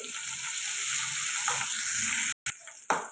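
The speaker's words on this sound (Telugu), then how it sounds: "ఇలా ఫ్రై అవుతాయి కదండి ఉల్లిపాయలు" Onions and coarsely crushed garlic fry in a pan, a steady close hiss of sizzling oil that briefly drops out twice near the end, with no talking.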